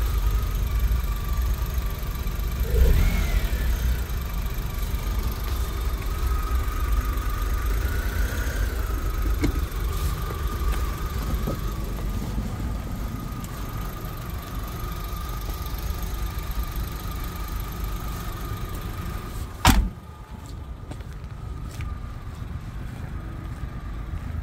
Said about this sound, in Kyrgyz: Машина от алып турат азыр. Эч бир үнү жок. Газ менен жүрөт.